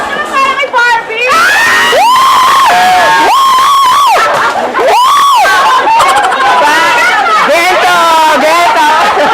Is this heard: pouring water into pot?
no